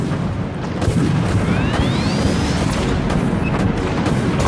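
Warship guns firing in the naval combat game Dreadnought: a steady, loud barrage of deep booms and blasts rolling together, with a brief whistling streak of incoming shells overhead.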